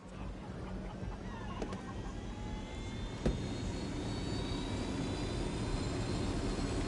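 Aircraft piloted in Ghost Recon Wildlands, a steady engine drone that holds and swells slightly, with one sharp click partway through.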